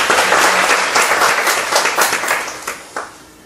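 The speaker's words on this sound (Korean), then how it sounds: "박수로 한번 축복하시겠습니다." A crowd applauds with dense, energetic clapping that gradually thins out and fades toward the end.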